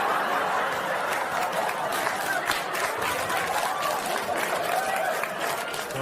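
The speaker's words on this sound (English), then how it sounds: "Don't applaud that much." A studio audience applauds and laughs steadily throughout, a dense, continuous wash of clapping mixed with scattered chuckles and crowd murmur.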